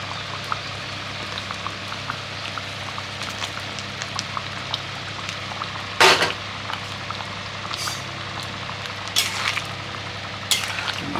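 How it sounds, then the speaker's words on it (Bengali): Potato curry with paneer bubbling in water in a pot, a steady close simmering hiss with a few sharp clicks and knocks of a utensil against the pot. "এটা বন্ধুরা জল দেওয়ার পরে অনেকটা ফুটিয়ে নিয়েছি।"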